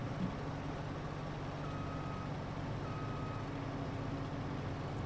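A forage harvester with a dolly trailer in a farming video game reverses while a steady, evenly spaced beeping alarm repeats over the constant low drone of its engine.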